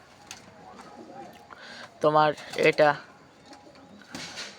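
Pigeons in a rooftop loft give a few deep, close cooing calls in two bursts, with a person speaking briefly nearby.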